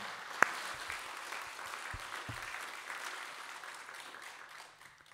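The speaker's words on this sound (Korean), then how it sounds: "우리 다시 한번 큰 박수로 환영하도록 하겠습니다" Church congregation at a revival meeting clapping in welcome for a pastor, a soft, steady patter of many hands spread evenly through the room, with a few sharper single claps near the start, fading slightly toward the end.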